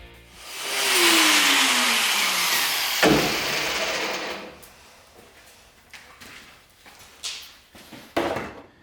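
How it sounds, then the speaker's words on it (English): An angle grinder works on the frame of a Ford F250 Super Duty truck, spinning up to a loud sustained whine for several seconds, then breaking into short bursts and scrapes of metal, close by with no talk. "here we are grinding the frame"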